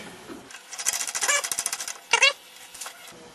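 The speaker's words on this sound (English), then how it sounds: "I'm going to drill it starting at the grain match end" A brief burst of rapid, chattering mechanical rattle as a drill bites into a wooden pen blank, then a short grinding surge and a fading whir.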